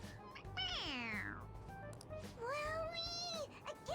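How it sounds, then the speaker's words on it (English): A stuffed toy cat lets out two long, clear electronic meows when its head is pressed, close and loud, with low background noise between them. "It meows when you press on its head."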